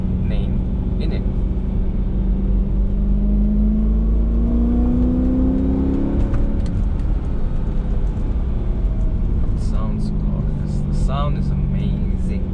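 A BMW E93 M3 convertible with its 4.0L V8 drives along, the engine droning and rising in pitch through the gears beneath constant road rumble, with a person talking over it.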